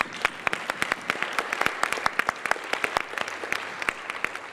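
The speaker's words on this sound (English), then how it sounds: "Give yourselves a round of applause, please." Hospital staff at Kings County Hospital applaud, a room of steady, sharp claps that continue evenly throughout.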